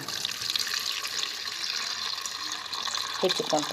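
Water runs and splashes nearby as jamun fruit is rinsed in a container, a steady hissing trickle with a few brief clinks near the end.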